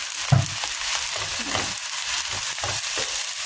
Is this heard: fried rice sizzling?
yes